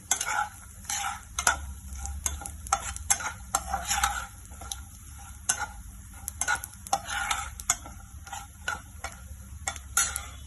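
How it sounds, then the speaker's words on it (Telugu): Cashews roasting in a pan on low heat for sesame laddus, a soft sizzle under repeated light scraping and ticking stirs of a spoon against the pan, quiet and close. "జీడిపప్పు వేగిపోయిందండి"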